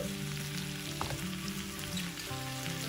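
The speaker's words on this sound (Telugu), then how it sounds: "1/2 టీ స్పూన్ పసుపు వేసి వేయించుకోండి. 4-5 నిమిషాలు వేయించుకుంటే వంకాయ వేగిపోతుంది." Eggplant frying in a pan with turmeric, a dense, steady sizzle and crackle heard close up, with a faint hum running underneath and no voices.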